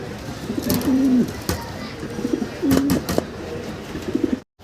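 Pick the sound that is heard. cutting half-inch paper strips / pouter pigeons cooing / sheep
pouter pigeons cooing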